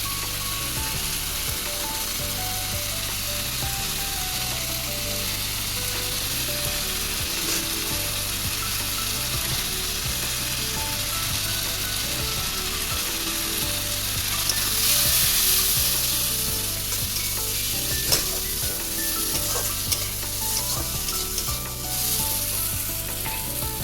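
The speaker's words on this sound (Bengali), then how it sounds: "একসাথে আমি এবার কষবো এটাকে" Tomatoes frying in oil with salt and spices while being stirred, a steady close sizzle with soft scraping and clinks of stirring running throughout.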